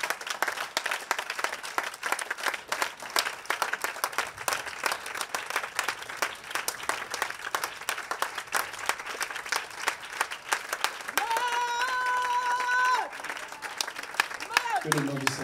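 A church congregation applauds in a sustained, dense patter that runs steadily throughout, with a steady tone briefly rising above it near the end.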